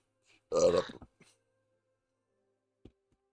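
One short, loud, close burp bursts out near the start, followed by near silence with a couple of faint clicks.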